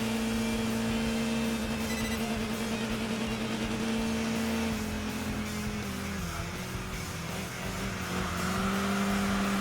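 Race car engines in the driving game Enthusia roar steadily at high revs, a loud sustained drone with a shifting pitch as the cars run a straightaway, slipstreaming close behind a rival.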